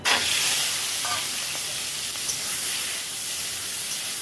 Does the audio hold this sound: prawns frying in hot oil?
yes